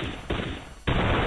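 Rapid handgun fire in a multiplayer first-person shooter match, two dense bursts of loud shots in close succession with a brief gap between them.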